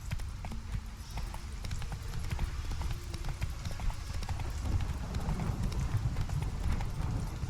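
Horse hooves gallop in the Witcher 3 video game, a rapid, steady clip-clop of hoofbeats on the ground with a low rumbling bed, continuous and close throughout.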